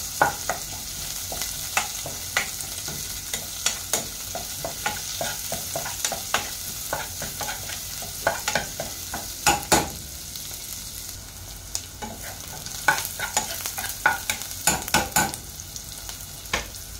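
Onions sautéing in a pan until brown for Filipino ginataang gulay, with a steady low sizzle and frequent sharp stirring scrapes and clicks throughout, close and moderately loud with no talk.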